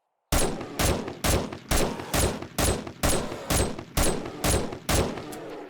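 A sniper rifle in 7 Days To Die Alpha 19 fires about a dozen loud, sharp shots in a fast, even rhythm, each cracking close and decaying briefly before the next.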